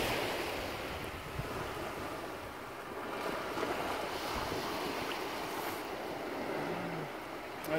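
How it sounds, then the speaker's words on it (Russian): Sea waves wash continuously against the shore with gusting wind buffeting the microphone, a steady rough roar with no voices. "Это море."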